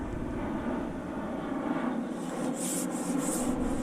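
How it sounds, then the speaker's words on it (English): An airplane passes high overhead during lockdown, heard as a broad, steady distant roar at a pole fishing spot, with a faint hiss and some light rustling near the end. "isn't it weird now seeing planes go over all the way through lockdown?"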